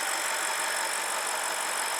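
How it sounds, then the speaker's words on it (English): A BMW N62 V8 engine idles while warming up, giving a steady, even hum with a constant high whine, heard close and alone. "As I'm letting the idle warm up"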